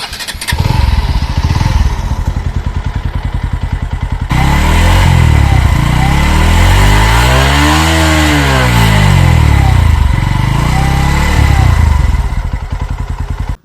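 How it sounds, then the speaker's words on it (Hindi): Bajaj Pulsar NS125 motorcycle with an underbelly exhaust, revved hard and steadily close by, the engine note rising and falling through a sweeping rev in the middle before settling back. "और अगर बात करें अंडर वैली एग्जॉस्ट सिस्टम की तो एक बार आवाज़ भी सुन लेते हैं।"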